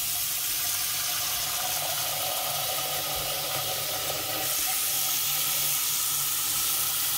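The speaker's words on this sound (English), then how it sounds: "Then you put water back over them." Tap water runs steadily over boiled eggs in a pot in a kitchen, a constant close splashing hiss that carries on for several seconds and shifts slightly in tone partway through.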